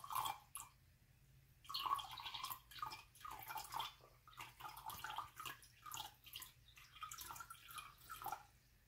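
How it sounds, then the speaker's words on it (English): Water is poured into drinking glasses for an egg float experiment at home, with a thin splashing trickle coming in irregular bursts over several seconds, fairly quiet and close, with no talk. "first you pour water into the glasses"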